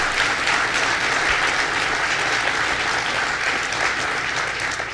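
An audience applauding at a governor's bill signing event, dense sustained clapping from a large crowd, loud and steady throughout.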